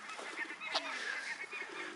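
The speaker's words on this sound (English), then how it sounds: "I think that's a herring gull." A gull-like honking call rings out at a waterside bird park, heard a few times against a noisy outdoor background of other birds and distant bustle.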